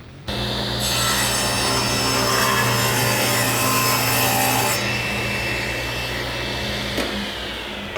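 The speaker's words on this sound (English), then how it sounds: "this piece of wood that I just cut" A saw cuts through a piece of wood for a shelf with a loud, steady rasping drone close by, the tone dropping partway through before the cut ends with a brief knock.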